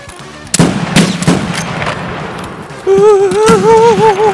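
Revolver shotgun fired in Escape from Tarkov: loud blasts near 0.6 s and 1.0 s with smaller hits after, then a warbling tonal sound takes over for the last second and a half.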